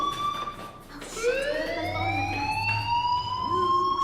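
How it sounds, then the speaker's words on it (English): Inside the video game Life Is Strange, a wailing electronic alarm climbs steadily in pitch and then holds a loud tone, with a low hum underneath and no talking. "Hey, do you hear that fire alarm?"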